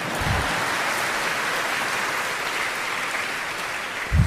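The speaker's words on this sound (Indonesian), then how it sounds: "Boleh tepuk tangan." A seated audience at a university Ramadan event led by Anies claps steadily in a broad, sustained wash of applause that holds evenly throughout, with no speech over it.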